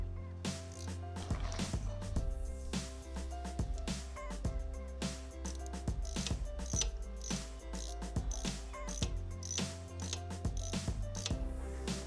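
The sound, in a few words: ratchet loosening cylinder head bolts, Benelli 899 engine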